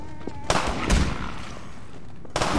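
Combat in Half-Life 2: Episode Two: a few sharp, loud gun reports ring out a second or two apart over a steady background din, without speech.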